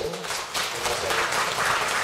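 Warm, dense applause from an audience at a Won Buddhist dharma service, rising after a brief dip and continuing strongly for about two seconds, with no voice over it.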